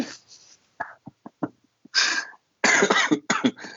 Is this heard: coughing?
yes